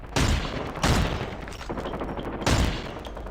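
Rapid gunfire bursts from a video game shooter in an arctic setting, three loud volleys of automatic fire sounding close, with sustained rattling between them.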